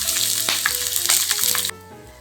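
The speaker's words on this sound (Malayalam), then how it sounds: "പെട്ടെന്ന് ഉണ്ടാക്കുന്ന പുളിയിഞ്ചിയാണ് ഇതിലേക്ക് കടുകിടുക മുളകിടുക പച്ചമുളക് ഇഞ്ചി കറിവേപ്പിലൊക്കെ ചേർക്കാം" Mustard seeds, dried and green chillies, ginger and curry leaves sizzle and crackle loudly in hot oil for a quick Kerala puli inji, close up and continuous before cutting off abruptly near the end.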